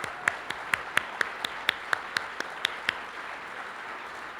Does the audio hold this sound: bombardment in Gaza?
no